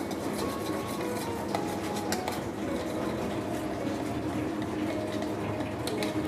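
Garlic butter, minced garlic, mustard and honey sauce is stirred in a pan, with steady scraping and clinking of a utensil against metal over a soft sizzle, close up and continuous, with no talking.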